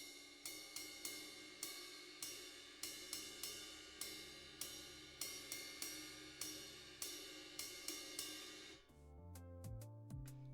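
Slow jazz ride cymbal pattern on a drum kit, shimmering cymbal strokes in a steady, spaced rhythm with a few deeper drum hits at the end, played alone without talk.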